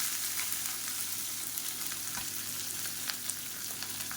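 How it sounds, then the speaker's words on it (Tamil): Sliced onions fry in hot oil with fennel seeds and curry leaves, giving a steady, dense sizzle with small crackles and pops heard up close. "இது கூடவே கருவேப்பிலை நீளமாக நறுக்குனா பெரிய வெங்காயம் சேர்த்துக்கலாம்"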